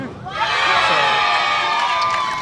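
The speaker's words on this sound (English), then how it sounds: "you hear the Koreans cheering for a double" Crowd of Korean fans at a women's world bowling championship doubles final cheering a double strike, a loud burst of shouts and whoops that swells quickly and holds.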